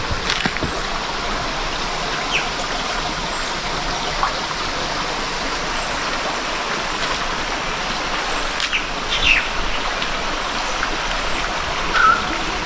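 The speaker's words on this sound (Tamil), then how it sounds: "அது இங்கிட்டு பார்த்தீங்கன்னா தண்ணி பாருங்க ஓட." Water flows steadily beneath a small village bridge, a continuous rushing, stream-like wash with no pauses, fairly loud and close, with only faint incidental knocks.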